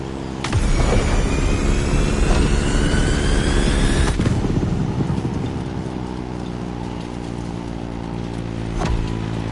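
In The Crew Motorfest, a Beechcraft Staggerwing biplane's engine drones loudly and continuously, its pitch sweeping as it flies, with a sharp shift partway through and no speech.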